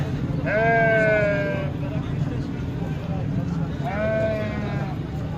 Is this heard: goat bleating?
yes